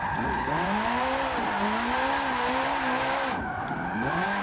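Tires squeal continuously as a roughly 2000-horsepower car skids and slides, a loud sustained screech with wavering pitch over a constant engine drone.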